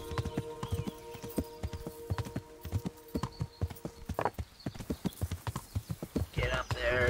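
Steady rhythmic clip-clop of horse hooves at a trot in the video game Kingdom Come: Deliverance, close and continuous, with a louder scrape and shuffle of movement at the end.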